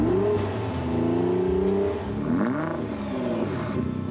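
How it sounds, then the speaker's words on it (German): A Nissan GT-R with a six-cylinder engine and 75,000 km on it revs loudly and up close, the engine note climbing and falling through several throttle blips with no talk over it. "Hamid checkt, ob der Motor rund läuft."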